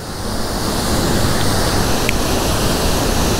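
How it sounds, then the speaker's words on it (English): A waterfall roars steadily at its base in a trout-fishing river setting, a dense, continuous rushing wash of water that is loud and close, with no voices over it. "Right at the base of the waterfall"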